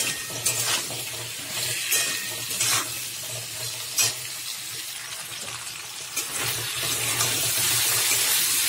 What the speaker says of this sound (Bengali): আদাটা দিয়ে একটুখানি কষিয়ে নিয়েছি।